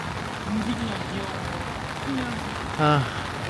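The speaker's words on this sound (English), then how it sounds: "because it's still raining" Steady rain falling in Da Nang, Vietnam, a continuous soft hiss of drops on surfaces with a few brief tonal sounds and a voice nearby.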